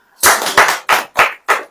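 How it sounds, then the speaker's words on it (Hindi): An audience at a church gathering claps in unison, five loud, sharp bursts in an even rhythm with brief gaps between them. "ताली बजाइए"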